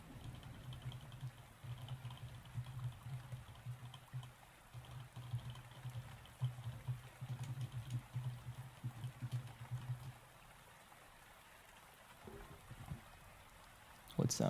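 Rain sound effect playing during an ASMR stream, a steady hiss of falling drops that thins out near the end, with soft keyboard tapping over the first part.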